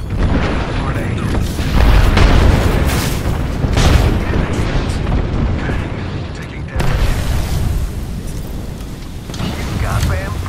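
Airstrike explosions in a shooter video game: heavy booming blasts and rumbling roll on over about ten seconds, loud and dense, with in-game voices under the blasts.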